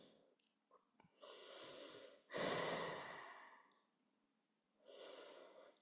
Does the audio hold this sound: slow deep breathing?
yes